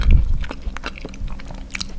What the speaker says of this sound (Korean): 피스타치오 씹히는 느낌도 좋고